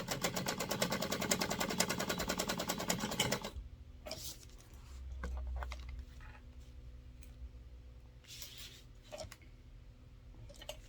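A sewing machine runs a fast, even stitch down lines on wallet card slots for about three seconds, then stops, leaving quiet handling noises and faint scattered clicks.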